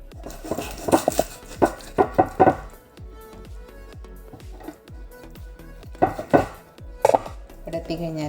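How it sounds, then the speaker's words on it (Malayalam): A knife chopping through a whole chicken on a cutting board: sharp, loud chops in quick clusters with pauses between, alone without talk. "ഇനി ഇതൊന്ന് കട്ട് ചെയ്തെടുക്കാം"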